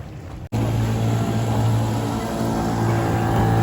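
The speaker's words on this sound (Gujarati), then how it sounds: "આ મિત્રો ઇલેક્ટ્રોનિક બોટ છે અને આપણે પેડલ બોટ્સમાં જઈ રહ્યા છીએ" Steady low electric boat motor hum on water with a constant tonal drone and broadband wash, close and continuous, after a brief dropout at the start.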